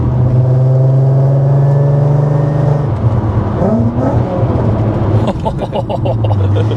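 A supercharged 360bhp Mk4 Volkswagen Golf R32 engine revs and rumbles up close, pitch rising and falling, with a short burst of rapid crackling pops near the end.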